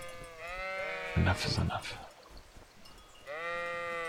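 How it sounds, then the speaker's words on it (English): Sheep in Kingdom Come: Deliverance give a couple of clear, wavering bleats at the start and again near the end, with someone talking in between. "I don't want to kill too many of these sheep"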